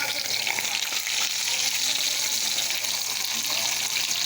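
Fish frying in a pan for Jamaican brown stew fish, a steady close hiss and crackle of hot oil sizzling continuously without a break.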